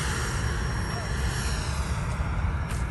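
A Freewing Yak-130 RC model jet flies overhead, giving a steady, fairly loud whooshing whine with broad airflow noise throughout and no breaks.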